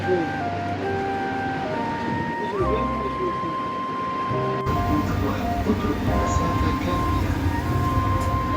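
A Qatar metro train pulls into a station with a rising rumble and a brief electronic chime, then steady rolling noise and a louder mechanical hum after a sudden change midway.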